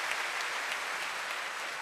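An audience applauds Pak Nurdin at a televised talk show, a steady wash of clapping that holds level and fills the room throughout, with no voices over it.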